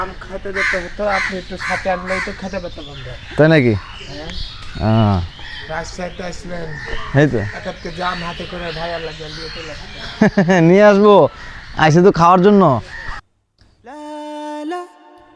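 Birds, including loud crows cawing, call near a garden on the bank of the Padma river in Rajshahi, mostly under people chatting and laughing nearby.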